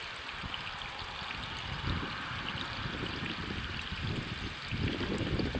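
A garden hose waters a vegetable garden, a faint steady trickle and patter of water running continuously at close range, with no talking.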